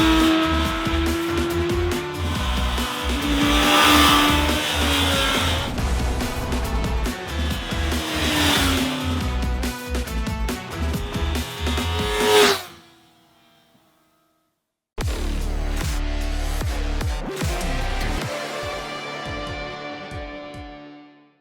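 A 400cc four-cylinder Kawasaki Ninja ZX-4RR revs near 16,000 RPM on a country road, a loud, sustained high-pitched engine wail with shifting pitch, a sudden dropout, then the screaming engine again.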